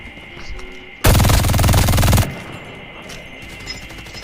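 A loud, rapid MG42 machine gun burst in Call of Duty Mobile rattles nonstop for about a second, then cuts off, leaving quieter game background noise.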